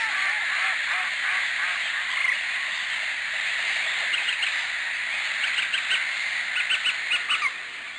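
A northern shoveler duck on a lake gives a run of low, croaking quacks in short bursts, close and fairly loud over a steady background of other birds calling.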